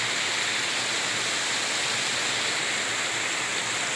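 Water rushes steadily at an outdoor water cross site, a dense, continuous broadband wash with no pauses, loud and close, with no talking.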